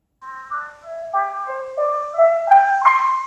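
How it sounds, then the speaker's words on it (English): A simple tape-recorded melody heavily degraded by generation loss through a Chase Bliss Generation Loss pedal plays as a string of wavering, warbly tones, stepping up in pitch, moderately loud and alone. "You hear how every time we record it back to tape, it gets more and more distorted."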